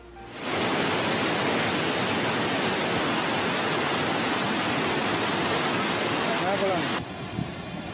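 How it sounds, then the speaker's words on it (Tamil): A roaring, flooding waterfall pours continuously, a dense, loud rush of water that holds steady for several seconds before dropping off sharply. "அருவியில் கடும் வெள்ளப்பெருக்கு"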